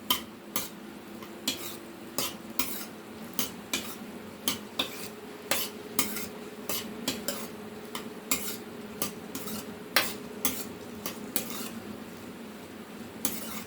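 Okra cooking in oil in a pan, stirred with a utensil that clinks and scrapes against the metal in a steady series of sharp knocks over a soft sizzle, close up, with no voices.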